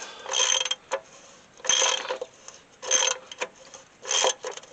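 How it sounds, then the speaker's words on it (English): A wrench tightens the oil drain plug on a Dodge truck, giving four bursts of clicking ratchet strokes in an even rhythm with short pauses and light metallic ticks between them, close by and with no talking. "And snug it up good with your wrench."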